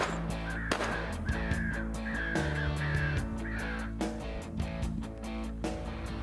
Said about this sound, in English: We've got the American common crow, the most common bird we have in North Carolina